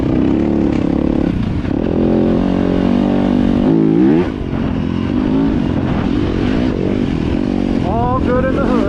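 A Yamaha YZ250FX dirt bike engine revs hard and continuously while riding through whoops and choppy ground, its pitch rising and dropping with the throttle, loud and close throughout, with a rider's voice mixed in.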